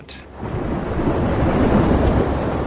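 A steady wash of storm noise with deep rumbling, a low roar that builds after a quiet start and holds, like thunder rolling through heavy weather, evoking storms on Venus.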